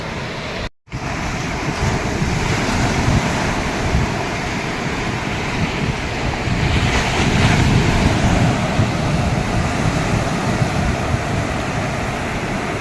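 Steady roar of sea surf washing onto Benaulim Beach in South Goa, broad and continuous, with wind buffeting the microphone and one brief dropout near the start.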